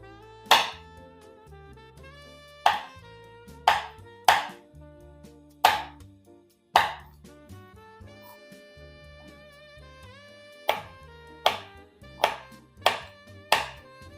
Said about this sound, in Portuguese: cortar em pedaços grandes a castanha de baru para a gente fazer a farofinha